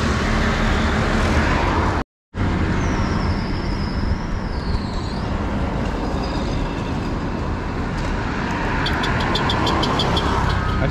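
A Starlet car engine runs steadily on a street in Jalingo, Taraba State, as a constant broad rumble with a brief dropout early on and faint higher chirps over the top.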